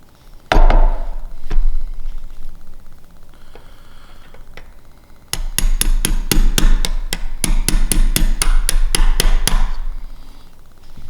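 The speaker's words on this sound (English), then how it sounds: "I'm just going to take my 1/8 inch punch and just slowly work this out" A 1/8 inch punch is hammered to drive a pin out of a Savage Axis rifle trigger assembly: two early taps, then a rapid run of sharp, close metallic hammer strikes, loud and evenly spaced.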